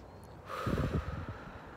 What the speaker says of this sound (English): I can hear my breathing.